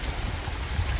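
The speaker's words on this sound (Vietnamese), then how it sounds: "Mưa thì quay nó hơi ồn" Steady rain pours down around a countryside hut in Vietnam's Mekong Delta, a dense continuous hiss close by with no voices over it.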